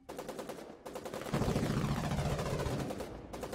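Sustained SMG gunfire from the war video game Foxhole, a dense rapid burst that runs loud for about two seconds, preceded and followed by shorter bursts of shots.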